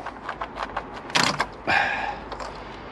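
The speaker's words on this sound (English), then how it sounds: "pull the fuel rail off" Fuel rail being pulled free from the inlet manifold of a 1.4 or 1.6 litre Mini One or Cooper (R50/R52), giving a few close, short creaks and scraping clicks, with two louder bursts near the middle and quieter rattles around them.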